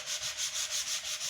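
Wet sandpaper of 400 grit rubbing across a marquetry panel being prepared for varnish, a close, steady hiss rising and falling in about seven even back-and-forth strokes, with no voices.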